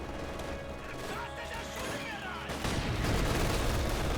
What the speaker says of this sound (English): So our machine gun is doing good work suppressing this unit here